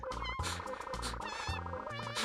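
Cat villagers meowing in Animal Crossing on GameCube, a run of short, bright, musical meow-like chirps in a quick rhythm over light background music.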